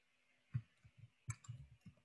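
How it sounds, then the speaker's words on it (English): Keys clack on a computer keyboard in a quiet room as a font-size 14 word is entered, a handful of soft, uneven taps in two short bursts, close and faint. "And we're going to type in"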